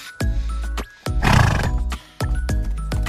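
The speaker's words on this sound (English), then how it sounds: "This is a horse." A horse gives a loud, close neigh, a rising whinny of about a second, framed by several sharp clip-clop hoof knocks before and after it.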